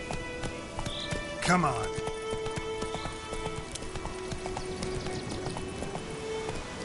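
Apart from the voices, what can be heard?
horse Roach galloping in video game Witcher 3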